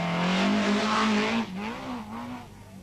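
A rally car races along a stage of the 1980 Ulster Rally, its engine loud and close with a steady tone that dips briefly as the revs change, then pulls away again with no voices over it.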